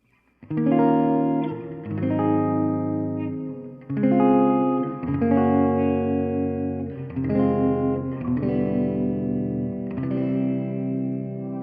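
Electric guitar chords ring through a Ventris Dual Reverb set to a hall reverb, several strummed chords in sequence, each sustaining into a broad, smooth wash of tail.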